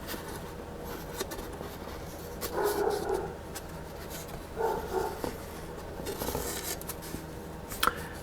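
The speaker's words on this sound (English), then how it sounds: "That's our dog Tiberius barking at probably" A dog named Tiberius barks a few times at moderate distance, brief tonal yelps in two clusters over a steady background noise with scattered clicks and taps.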